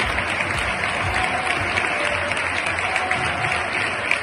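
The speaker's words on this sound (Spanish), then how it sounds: "Diego Lainez fue titular por primera vez en la temporada y salió de cambio ovacionado al minuto 73." Stadium crowd at a football match applauding a player as he is substituted off, a dense, continuous roar of clapping with crowd noise mixed in and no break over the few seconds.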